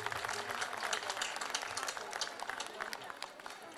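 Dense applause from an audience at a Yörük folk night in Dalaman, a steady crowd roar of clapping that holds loud and even throughout, with voices mixed in.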